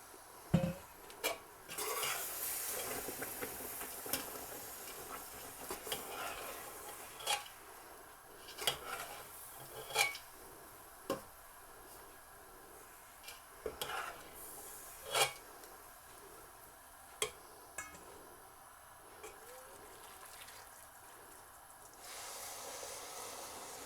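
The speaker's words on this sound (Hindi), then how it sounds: "और अब इसमें ये जो चाश तैयार की है हमने, इसको थोड़ा थोड़ा करके मिक्स कर देंगे।" Sugar syrup worked into desi ghee panjiri in a pan, with steady rasping, scraping strokes of a spoon against the pan repeating every second or two over a low hiss, and no voices.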